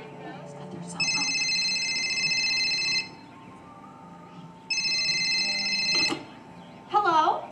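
Cell phone ringing indoors in two long electronic trill bursts separated by a pause, fairly loud, with a short clatter and a voice briefly speaking afterward.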